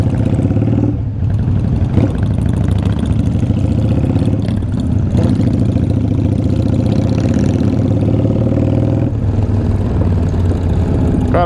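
A Yamaha Virago 535 motorcycle's V-twin engine idles with a loud, close, throbbing chug, swelling in a few short revs throughout.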